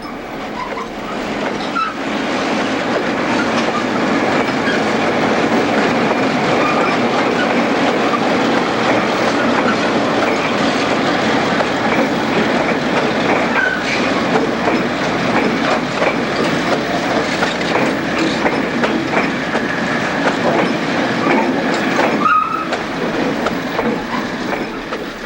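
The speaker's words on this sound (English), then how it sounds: "the crew's first task is to marshal the train." A freight train is marshalled in the yard at Bishop's Falls on the Newfoundland Railway, with a steady, loud rumble of rolling railcars, clanks and occasional squeals throughout, without speech.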